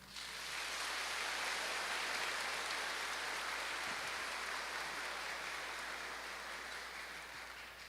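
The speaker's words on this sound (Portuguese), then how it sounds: "Pode dar uma salva de palmas também." A congregation applauding during a Chrism Mass in a church, a broad, even wash of clapping from a large crowd that rises quickly and holds steady for several seconds, sounding distant and reverberant, almost like heavy rain.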